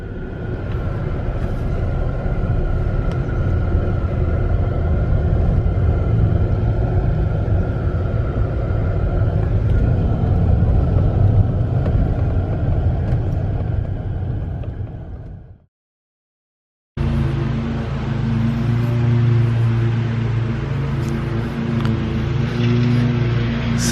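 A car drives slowly around a cemetery in southern Michigan, with a steady, loud interior engine rumble and road noise, a short cut to silence, then the same drone resuming.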